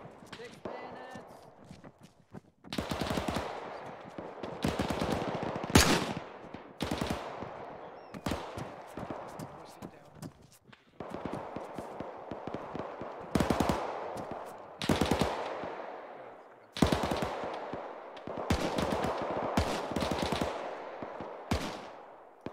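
Repeated bursts of automatic and single-shot gunfire in the WWII shooter Iron Front, an ArmA mod, come in loud clusters separated by short lulls over about twenty seconds, with voices talking between and over the shots.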